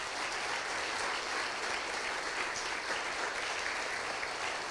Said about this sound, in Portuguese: Se você concorda, aplauda o nome do Senhor nessa noite.